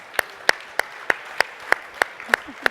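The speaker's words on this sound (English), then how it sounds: "Give yourselves a huge round of applause." Crisp, evenly spaced claps ring out about three times per second, sounding like a single steady clapper rather than a full audience.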